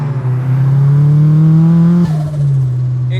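A 470 whp big-turbo Mazda Miata MX-5 running on E85 accelerates hard, its engine note rising loud and close, then dropping sharply at a gear change before pulling on again.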